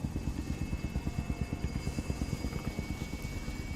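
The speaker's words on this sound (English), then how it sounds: "Big scary helicopter, that's fine." A helicopter in Call of Duty: Warzone thuds overhead with a rapid, even rotor chop, a steady pulsing beat that stays moderately distant and consistent throughout, with no talk.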